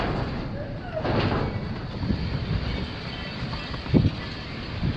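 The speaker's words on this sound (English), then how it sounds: "There is quite a bit of wind outside." Strong wind gusting outside a house, a steady broad roar with rumbling buffets and occasional knocks and rattles, close and loud throughout.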